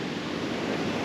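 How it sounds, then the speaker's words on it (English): Big ocean waves along the off-season coast near Miami and the Florida Keys, heard as a continuous broad wash of surf and wind-like rush, loud and unbroken, with no voices. "big waves."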